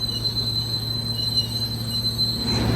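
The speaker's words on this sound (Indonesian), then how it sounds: "Kereta api Pandalungan. Full kelas eksekutif, biasanya bawa kereta priority." Pandalungan passenger train, a full executive-class set with stainless steel coaches, rumbles past with a steady low drone, squealing wheels and a sustained high whine, growing slightly louder at the end; no one speaks.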